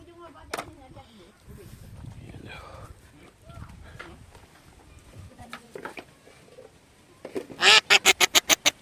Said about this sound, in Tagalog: Yan mga pato sa New Year yan.